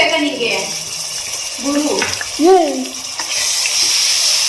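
Garlic and ginger paste frying in a pan for fish head sambar gives a steady, bright sizzle throughout, with faint tonal voice-like sounds rising and falling over it.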